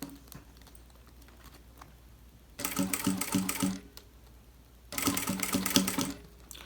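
Domestic sewing machine stitching bias binding onto fabric, heard in two close, steady whirring bursts of rapid stitching separated by a quiet pause, with no talking.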